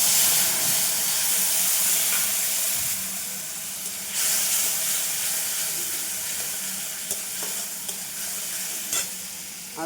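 Turmeric and chili powder mixed in water hits a hot pan of fish, giving a loud burst of sizzling and steam that settles into steady frying with stirring clinks.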